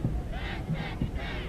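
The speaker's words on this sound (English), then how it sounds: "You hear the crowd on the shore chanting on their favorite teams" Spectators on the shore of a lake chant in loud, rhythmic bursts of crowd voices cheering for dragon boat racing teams, with a steady crowd roar underneath throughout.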